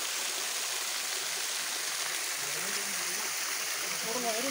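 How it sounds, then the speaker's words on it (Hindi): Natural waterfall dropping from a height at a temple site, a constant broadband roar that stays loud and even throughout, with a voice speaking faintly over it toward the end. "देख सकते हैं आप कितना ऊंचाई से ये पानी नीचे गिर रहा है। ये सारा नेचुरल है।"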